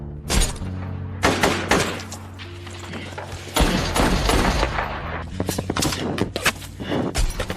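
Film battle gunfire erupts in dense, overlapping volleys of sharp shots and rapid bursts, loud and continuous with heavy thuds mixed in, and a shouted voice surfaces briefly amid the firing.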